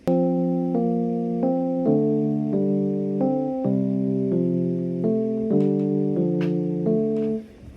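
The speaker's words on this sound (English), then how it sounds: "That's actually just a flex preset piano." Dry FL Studio preset piano with no effects plays a steady sequence of sustained chords, changing roughly every 0.6 seconds in an even rhythm, clear and close with no voices, ending abruptly.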